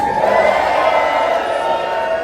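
Crowd at a live wrestling show in Nashville, a steady roar of cheering and shouting from many people, loud and continuous throughout.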